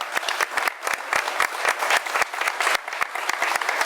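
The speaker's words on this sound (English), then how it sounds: "I'd like to give a big round of applause for everyone in attendance." Crowd applause closing a clerk of the court candidate forum, steady close clapping from the audience with no talk over it.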